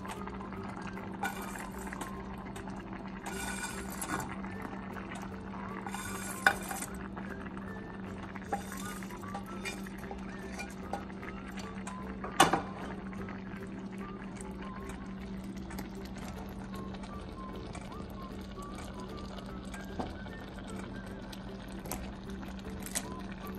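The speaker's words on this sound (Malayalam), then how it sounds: "വെള്ളം നന്നായി തിളച്ച് വന്നിട്ടുണ്ട്. ഇതിലേക്ക് നമുക്ക് നൂഡിൽസ് ആഡ് ചെയ്ത് കൊടുക്കാം." Water at a rolling boil in a cooking pot on high flame as noodles go in for a South Indian spicy egg masala noodle dish, a steady close bubbling hiss with a few brief clatters and splashes.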